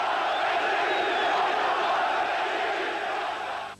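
Crowd at Bülent Ecevit's election rally in Bursa cheering and chanting, a loud sustained roar of many voices from a large outdoor gathering that holds steady for a few seconds, then cuts off abruptly.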